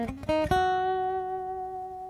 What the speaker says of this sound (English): And the run-up sounds like this.